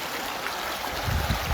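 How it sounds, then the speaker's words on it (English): Stream water running beneath a footbridge on the West Coast, a soft steady trickling rush, close and alone. "it's quite the meditation to have the water running through us"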